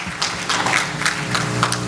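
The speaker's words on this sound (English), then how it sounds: "So give yourselves a round of applause for making this a reality." Audience applause at a housing charity gala, a steady patter of many hands clapping through the room at moderate loudness.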